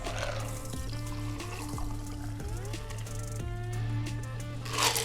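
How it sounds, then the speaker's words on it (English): A Maple Leaf cocktail made with Isaac Bowman port barrel finished bourbon and fresh lemon juice is poured from an iced shaker through a Hawthorne strainer and a fine mesh strainer, a close, gentle trickle under a steady background tone. "Now to strain out this cocktail, I'm going to use this traditional Hawthorne strainer."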